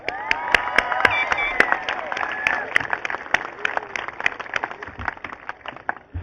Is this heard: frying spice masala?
no